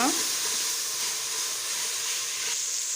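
Onions and ginger garlic paste sautéing in a large pot of tomato biryani, giving a steady close hiss and sizzle of frying with no clear stirring strikes.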